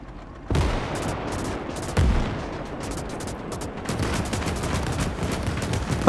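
Heavy gunfire from a player's unit in the Gates of Hell multiplayer war game, with close, loud firing bursts that start sharply and keep going through a dense, continuous barrage.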